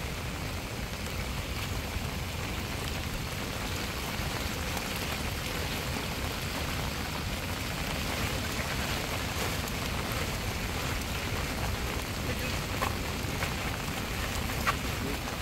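Steady rain falls over an area torn up by a flash flood, a dense, even hiss that continues unbroken throughout with no voices.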